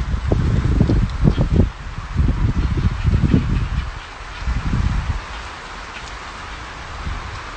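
Rain falling on a farm, a steady broadband wash of drops hitting the ground and foliage, with heavier bursts of low rumbling splatter in the first five seconds before easing to a softer, even patter.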